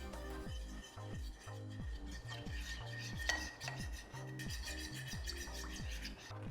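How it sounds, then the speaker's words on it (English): Pumpkin spice mixed into plant milk and flour in a bowl, with repeated rhythmic scraping and clinking of a utensil against the bowl, steady and close with no talk. "I'm gonna add the pumpkin spice to the plant milk and the flour mix."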